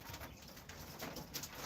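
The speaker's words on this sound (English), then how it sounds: "Here we got our mixed quail." Mixed quail in a backyard aviary call with soft, low cooing notes repeated faintly over steady outdoor background noise.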